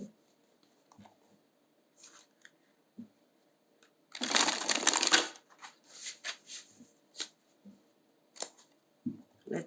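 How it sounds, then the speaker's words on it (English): Tarot cards are shuffled in one loud, riffling burst lasting about a second, followed by quieter scattered flicks and taps of the deck being handled close by in a quiet room. "So let's shuffle."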